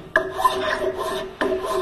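A hand file rasping over a wooden back scratcher to smooth its high spots, two short scraping strokes, close and moderately loud.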